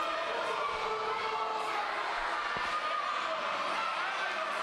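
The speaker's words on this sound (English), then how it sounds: "Crowd intently into this one, as you can hear" Wrestling crowd at an indie show reacting to a match, a steady background murmur and faint cheers mixed with speech.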